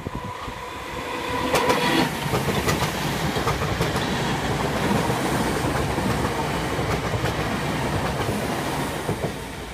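A train runs past the Waterloo level crossing on the south coast line, a loud, close rumble with rhythmic clickety-clack of wheels over rail joints lasting throughout.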